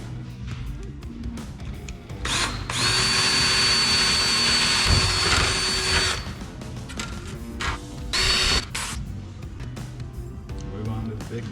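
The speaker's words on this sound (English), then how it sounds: "So we're going to get a pilot hole started with a small bit and work our way up to our step bit" Drill boring a pilot hole into a snowbike tunnel, two bursts of loud high-pitched whirring, a long one and then a shorter one, with someone talking before and between them.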